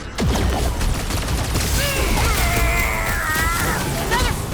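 Chaotic combat in Marvel's Guardians of the Galaxy game, with crashing impacts and bursts of weapon fire under a steady din, loud and close, with voices and tonal effects mixed in.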